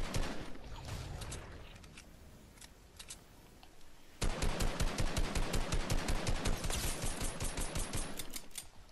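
Rapid gunfire aimed at the player in Fortnite, with sparse scattered shots at first, then a loud, sustained burst of fast repeated reports that fades toward the end, with no voices over it.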